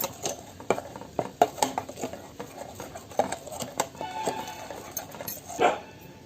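Metal utensils clink and scrape against a pan in irregular strokes as soya chunks are mixed and sautéed, with a low sizzling hiss running steadily underneath.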